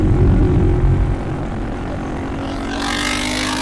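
A 450 motorcycle engine idling rough, giving a loud uneven throbbing rumble close by that settles slightly and then holds as a steady drone with some added hiss.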